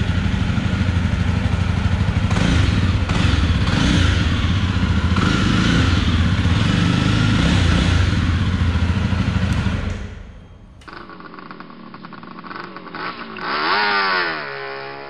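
A 2021 Jawa 42 BS6 motorcycle engine revs loudly and steadily at close range for about ten seconds, then cuts back to a lower idle with a short final rev rising near the end.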